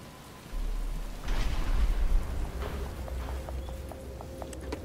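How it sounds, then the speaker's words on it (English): Steady rain patters and hisses in the video game Batman: Return to Arkham, with a low rumble swelling briefly, then a series of evenly spaced light clopping or dripping taps. "But it's starting to rain."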